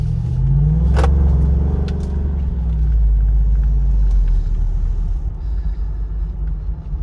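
A 2021 Jeep Wrangler with a 392 Hemi V8 idles and rumbles up close with a brief rev near the start, steady and loud with no talking.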